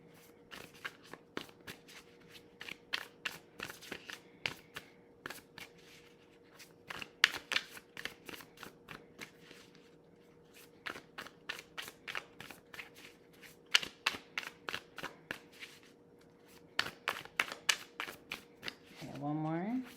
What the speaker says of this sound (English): I just really want to get a good shuffle.